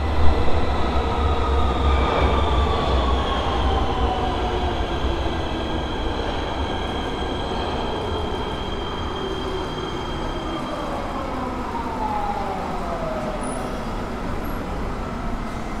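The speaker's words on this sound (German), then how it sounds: "Am Bahnhof Jakobinenstraße fährt der Kurzzug in Richtung Nürnberg ein." A Nuremberg U-Bahn DT1 short subway train pulling into Jakobinenstraße station, with a loud rumble of wheels on rails, descending brake whines and faint squeals as it slows, heard alone without talk.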